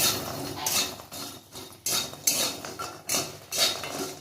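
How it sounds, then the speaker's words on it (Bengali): Lentil bori frying in oil in a pan for a pat shak jhol, heard as a spatula stirring and scraping in repeated clattering bursts with a sizzling hiss between, close and alone. "এগুলো লাল লাল করে ভেজে নিই।"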